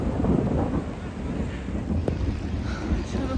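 Rain falling with low thunder rumbling on a mountain trail near Sonmarg in Kashmir, a loud steady wash of noise buffeted by wind on the microphone, with no voices.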